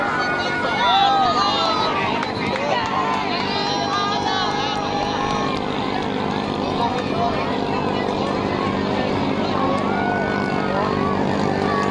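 Racing motorboat engines droning at a traditional boat race, a steady loud mechanical roar throughout, with an excited commentator and crowd voices shouting over it.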